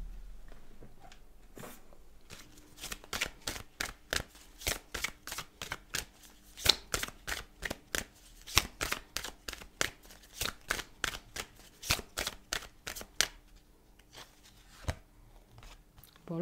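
Oracle cards being shuffled by hand, a long run of crisp riffling slaps and flutters in quick irregular bursts, close and quiet with no talk.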